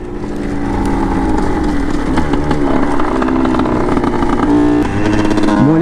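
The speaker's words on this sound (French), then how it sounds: "Je vais accélérer un petit peu." Small two-stroke Yamaha DT 70 motorcycle accelerating along a straight stretch, its buzzing engine loud and close throughout with rising revs and a steady raspy drone.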